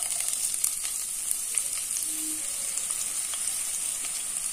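Two chopped onions frying in a pan give a steady, even sizzle with a constant hiss and small crackles, close by and alone without any talk.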